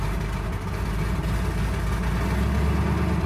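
A 1967 Ford Mustang fastback's engine runs steadily near idle, a loud, continuous low rumble with no breaks and no talk over it.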